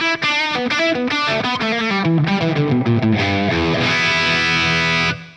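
Electric guitar with a warm, mildly overdriven crunch tone, picking a quick run of notes that ends on a sustained ringing chord, loud and close.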